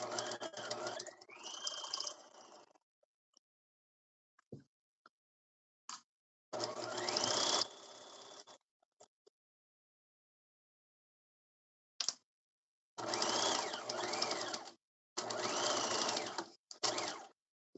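Sewing machine stitching through a satchel strap and flap at a 5/8 inch seam allowance, in loud close bursts of rapid mechanical whirring separated by silent pauses.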